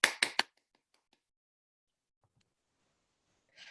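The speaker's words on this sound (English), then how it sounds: "I just applauded myself" One person claps their hands three times in quick succession, sharp and close, followed by near silence.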